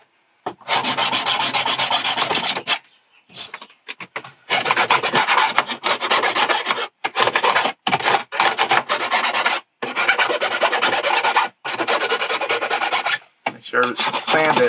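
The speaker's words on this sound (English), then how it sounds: "Make sure to sand it so it's nice and smooth." Sanding a car stereo dash panel smooth by hand, a loud rasping scrub in repeated strokes of a few seconds each, separated by brief pauses, close up with no talking.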